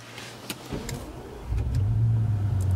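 A Bentley Continental Supersports with keyless ignition starts up: brief clicks and a whirr, then the engine catches at about the midpoint and settles into a steady, close, low rumble.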